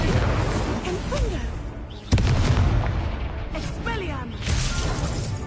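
The Incendio fire spell is cast in Hogwarts Legacy, making a sharp booming burst in the middle of a dense stretch of battle noise. Other crackling spell effects follow, and a voice is heard throughout.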